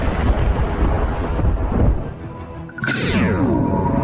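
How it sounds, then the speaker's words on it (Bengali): Thunder sound effect in a narrated fairy tale: a loud, rumbling roar that fades, then a sharp crack splits into a renewed rolling rumble, heard alone without talk. "পরি তখন মেঘের গর্জন শুরু করলো"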